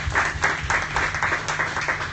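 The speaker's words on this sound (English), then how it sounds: "Give these guys a round of applause." A pub audience at a talk on the origins of heaven and hell claps steadily, a dense patter of many hands kept up evenly throughout with no voices on top.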